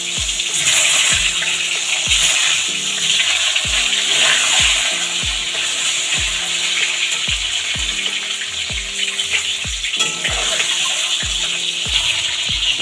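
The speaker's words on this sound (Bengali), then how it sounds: "এবার ডিমগুলো হালকা করে ভেজে নেব।" Eggs fry in a hot wok with oil, turmeric and salt, making a loud, bright, continuous hiss. Regular low thumps of a spatula or pan sound through it, and nobody speaks.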